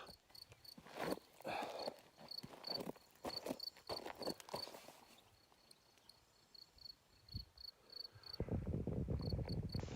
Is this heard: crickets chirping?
yes